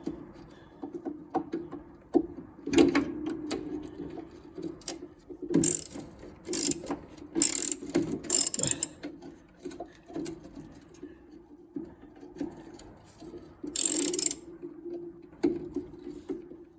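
Ratcheting socket wrench with 9/16 and half-inch sockets turning nuts while a half-inch wrench holds the other side, working on an MG; bursts of close, rapid clicking ratchet strokes separated by short pauses.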